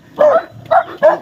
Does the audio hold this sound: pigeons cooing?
no